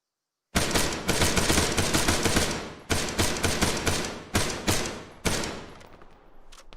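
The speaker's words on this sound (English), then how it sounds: "Enemy fire!" Sustained automatic gunfire from the military shooter game Arma, loud and close, with long rapid bursts broken by brief pauses and trailing off into sparser shots.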